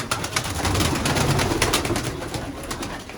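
Pigeons in a loft giving soft overlapping coos amid rustling and flutter, close and fairly busy, with no talking.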